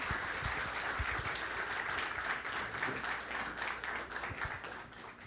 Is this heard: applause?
yes